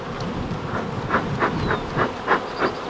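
A steady hum of honey bees buzzing close by at an open hive, with a pulsing, wavering drone and no talking.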